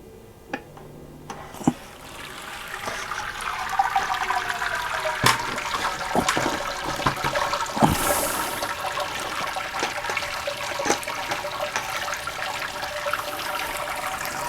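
Wort draining steadily out of a lifted mash basket into a homebrew kettle, a continuous splashing trickle of liquid with a few clunks and knocks, heard alone without talk.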